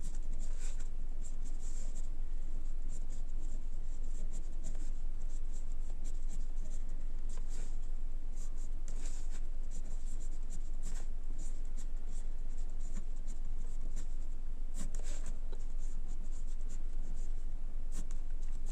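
Pen strokes scratch across paper while math is written out for a class 10 lesson, a steady close stream of short scratchy marks and taps continuing for nearly twenty seconds over faint background hiss.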